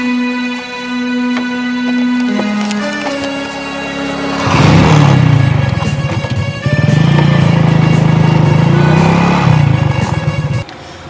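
A motorcycle running loud and close, its engine droning steadily before surging into a harsher, revving roar that holds for several seconds, then cuts off near the end.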